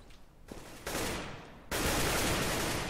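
Gunfire in Counter-Strike on the de_dust2 map during a competitive match, coming as sustained bursts of automatic fire that grow louder in stages and end in a dense, continuous barrage.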